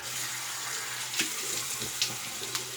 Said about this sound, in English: let me rinse this album off now